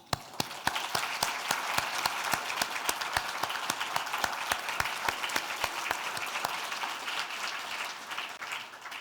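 An audience at a public service roadshow panel discussion in Canberra applauds steadily, with many hands clapping in a dense, even patter and a few sharper claps standing out, tapering slightly near the end.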